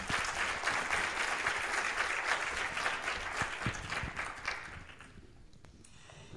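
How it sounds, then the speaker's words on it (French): Audience applause at the opening session of a regional conference, a dense sustained wash of many hands clapping that fades toward the end, with no talk over it. "je vous propose d'applaudir"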